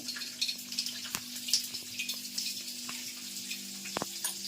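Steady crackling sizzle of hot oil tempering fenugreek-leaf vegetables, with small pops and sharp ticks, a low hum running underneath, no voices.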